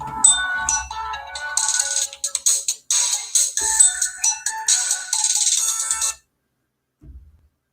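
A phone rings on an outgoing call to a real estate contact, a loud melodic ringtone lasting about six seconds before cutting off to near silence with a faint click.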